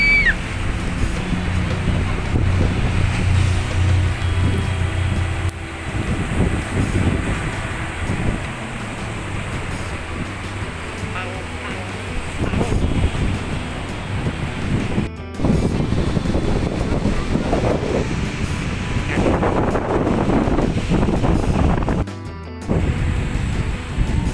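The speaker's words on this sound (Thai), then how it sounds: "บรรยากาศ ชายทะเลก็จะประมาณนี้นะคะ" Waves wash onto a seaside beach in Prachuap Khiri Khan, Thailand, as strong wind buffets the microphone, a continuous loud roar with surging surf swells and brief gusty dropouts.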